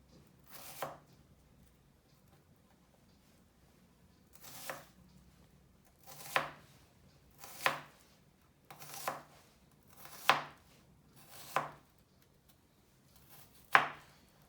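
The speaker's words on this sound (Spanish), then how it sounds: "Luego vamos a cortar en sentido de las líneas de la cebolla." A knife chops through an onion on a cutting board in eight separate crisp cuts, spaced irregularly a second or two apart, close and fairly quiet with near silence between strokes.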